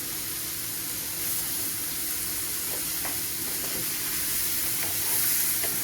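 Whole mushrooms frying in a pan, a steady bright sizzle and hiss with occasional soft pops and stirring sounds, close and continuous, with no one speaking.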